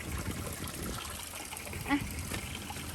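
A small waterfall with flowing water, a soft, steady trickling and splashing rush heard at moderate distance, fairly quiet, with faint voices in the background.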